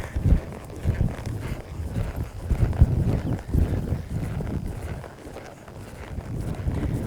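A horse loping in a circle in an arena, its hoofbeats giving a steady rolling rhythm, soft and moderately close, with the rider's spurs and legs in use and no talk.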